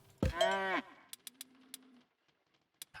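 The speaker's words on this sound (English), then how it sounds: "So we're going to put in some cow farms." Cattle at a cow farm in the Roman city-builder Citadelum give one loud, drawn-out moo up close, followed by a low lingering tone and scattered short clicks of game interface sound.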